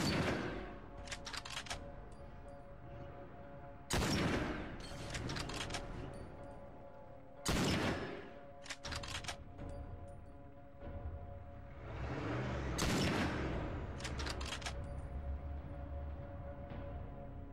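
Gunfire in The Last of Us video game, several loud bursts of shots at intervals over a continuous noisy backdrop of game sound, with sharp cracks repeating through the stretch.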